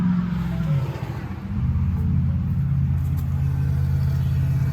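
A 2017 Ford F250 sits with the key on while its fuel pump primes after a fuel filter replacement, giving a steady low hum and rumble that holds evenly from start to finish, close by with no talking.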